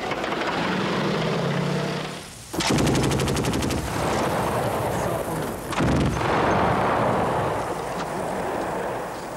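Artillery and gunfire from wartime combat footage in Croatia: dense loud bursts of rapid automatic fire and heavy booms over continuous battlefield noise, with brief lulls between volleys.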